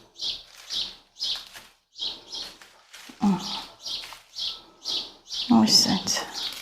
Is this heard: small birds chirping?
yes